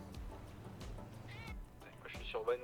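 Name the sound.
cat meowing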